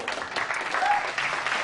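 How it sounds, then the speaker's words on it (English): Studio audience applause on a late-night television talk show, a brief, even wash of clapping from the crowd, moderately loud and unbroken. "Thank you both for this spontaneous outbreak of deafening applause."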